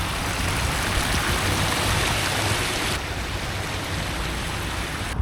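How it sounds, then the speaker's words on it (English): A small waterfall pours steadily near a parking spot outdoors, a constant close hiss of splashing water with no voices, slightly quieter in the second half. "I just really like that little waterfall bit. I like the sound of it."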